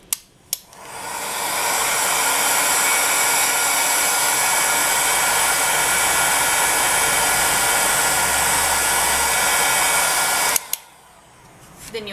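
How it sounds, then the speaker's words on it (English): A hair dryer on a slow setting, used to dry polymer clay, blows a steady, loud, even whoosh for about ten seconds, switching on near the start and cutting off near the end. "Or you can grab a heat gun or a hairdryer and put it on a slow setting and do this."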